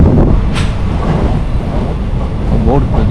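Konkan Railway train pulling out of a small station, a loud continuous low rumble and rolling clatter close by, with faint rhythmic wheel clicks and a brief high squeal early on.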